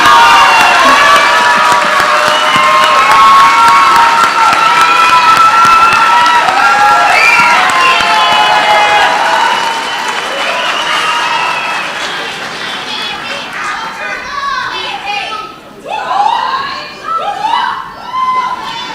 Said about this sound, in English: hear a round of applause for our family and friends